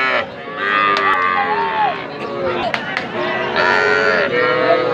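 A two-to-two-and-a-half-month-old heifer calf at the Ambari cattle haat moos loudly several times, close up, while people talk and murmur in the busy market around it.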